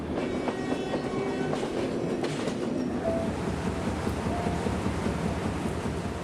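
A slow train rolls through the green hills and mountains near Ella and Haputale in Sri Lanka, with a continuous loud rumble, rattling carriages and clattering wheels, and no voices.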